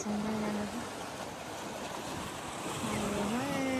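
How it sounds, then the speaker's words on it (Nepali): A continuous wash of ocean surf and wind noise at Ogunquit, Maine, broad and steady, with a faint tonal hum coming and going in the background. "पानीको छाल"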